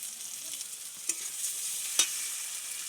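Ginger-garlic, chili and coriander-cumin pastes frying with onions for a Bengali bhetki fish curry, a soft, even sizzle broken by two sharp spoon knocks against the pan about a second apart.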